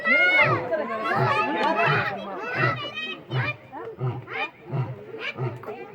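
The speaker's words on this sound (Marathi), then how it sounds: "सिंह बघा आवाज काढतो" A lion at a Pune zoo gives a series of low, rhythmic grunting roars, about two per second, heard beneath loud children's voices and chatter from the crowd nearby.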